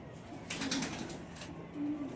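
An Indian surkha pigeon coos softly nearby, a low brief murmuring call heard twice over faint background noise.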